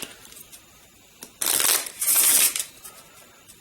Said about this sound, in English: What I'll do instead is just shuffle the whole lot, and then just start drawing.